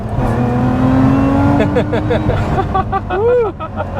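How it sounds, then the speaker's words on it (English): A Lotus Emira sports car engine revs hard and climbs in pitch, then drops and rises again in quick sweeps, loud and close, with talking underneath. "This engine sounds fantastic, you know, especially when you've opened up the throttle"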